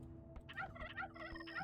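A turkey gobbles in a rapid warbling burst in the game Age of Empires II: The Conquerors, fairly close, over a steady low hum in the background.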